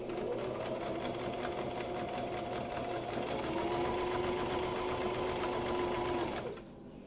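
A sewing machine runs steadily while stitching fabric for a bag holder, a continuous close motor whir and rapid needle hum that holds for several seconds, then cuts off near the end.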